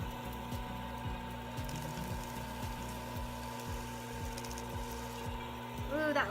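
A wood lathe spins while coloring an Easter egg, a faint low hum with a regular ticking rhythm roughly every half second, steady and continuous, with a brief squeak near the end.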